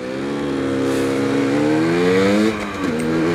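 A motorcycle engine revving close by, a rising whine that dips and then jumps with a quick throttle blip around two and a half seconds, as a gear is changed without the clutch.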